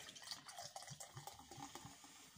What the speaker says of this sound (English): Pour it away and we go.